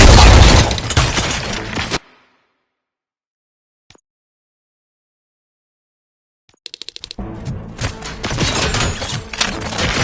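Bursts of rapid video game gunfire and booming blasts, loud and dense, cutting to near silence before the heavy shooting resumes.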